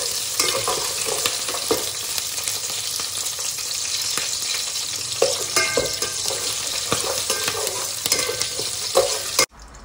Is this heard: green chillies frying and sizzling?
yes